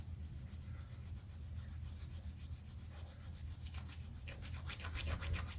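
Hardened glue along the edge of a small model aircraft part is rubbed in steady, rapid strokes, a faint, close, continuous scratchy friction with no talking.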